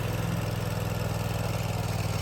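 Small Vermeer trenching machine engine running steadily while burying conduit, a continuous low chugging drone with even pulsing, close and fairly loud, no voices.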